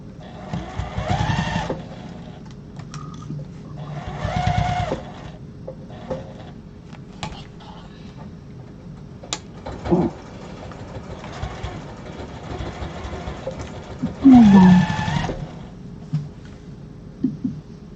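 A sewing machine stitching quilt blocks, running in short bursts of mechanical whirring separated by pauses, with clicks and handling noises between the runs.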